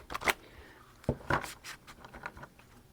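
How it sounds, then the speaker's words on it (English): Large tarot cards are shuffled by hand, giving a few uneven papery riffles and slaps, close and fairly quiet, with no talking. "These are big cards, so they're very hard to shuffle."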